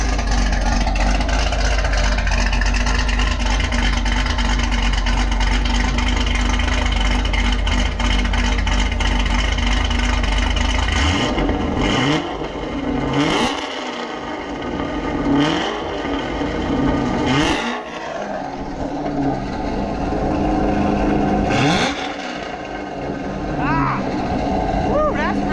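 A Chevrolet Camaro ZL1 idles with a steady low exhaust drone, then is blipped through the exhaust in several sharp revs that rise and fall, loud and close, with people talking around it.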